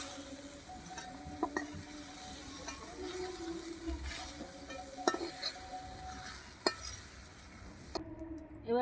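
Soybean chunks frying in oil in a pan, stirred with a spoon, giving a steady sizzle broken by scraping strokes and occasional metal clinks.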